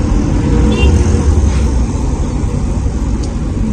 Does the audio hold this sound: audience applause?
no